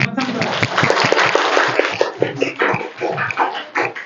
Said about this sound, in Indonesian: kita tutup dengan tepuk tangan ya